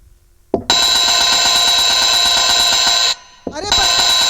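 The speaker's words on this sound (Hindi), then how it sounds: "कौन हो, इतनी जोर से घंटी लगा रहे हो?" A doorbell rings loudly and insistently in a folk theatre (nautanki) performance, a steady electric buzzing ring held for about two and a half seconds, a brief pause, then ringing again.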